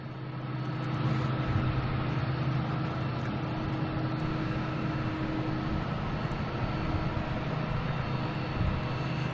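A steady, distant roar of an airliner arriving at Boston Logan International Airport from Detroit, a broad continuous rumble with a faint tonal hum, holding level throughout.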